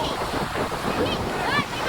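Heavy monsoon surf crashes continuously while strong wind buffets the microphone, a loud, rough roar with no pause.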